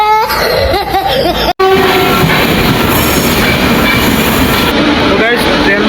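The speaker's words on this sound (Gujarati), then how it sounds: "આ જોઈ શકો છો અમારી ટ્રેન આવી ગઈ છે પણ દરવાજા બંધ છે." A passenger train pulls into a station platform: a tonal blast opens, then a steady loud rumble of rolling carriages with squealing wheels, and voices murmur nearby.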